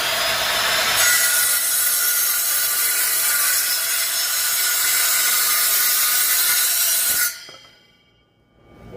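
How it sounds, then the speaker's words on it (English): Miter saw slicing through a wooden board, a steady loud buzzing cut lasting several seconds before the blade spins down and the sound drops away. "I know I called this a chop saw, you can call it a miter saw"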